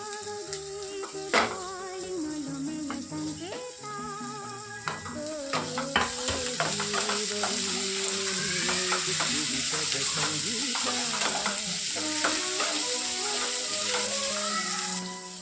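Methi leaves and green chillies fry and get stirred in a pan with garlic paste, a steady sizzle running throughout with scraping, clinking utensil strokes scattered over it, close and fairly loud, no voice.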